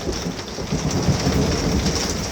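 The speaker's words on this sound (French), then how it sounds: "On est toujours dans l'orage, maximum de grêle, ça tombe de dingue." Heavy hail and rain pounding down hard during a thunderstorm in North Macedonia, a dense, steady roar of impacts close by with no pauses across the clip.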